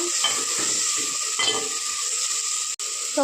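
Tomato paste frying in a pan for egg pulusu, a steady close sizzle with a few stirring scrapes and a brief drop near the end.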